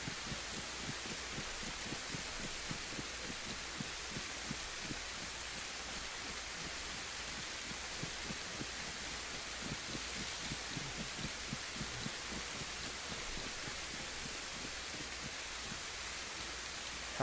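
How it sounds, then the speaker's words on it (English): Downpour in DayZ: a continuous dense hiss of hard rain with faint irregular patter, steady and quiet, unchanging for the whole stretch with no voices. "Man, it is raining hard."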